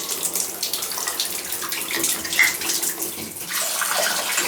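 Water runs steadily from a tub shower valve with a leaking diverter, a constant close splashing rush with no talk.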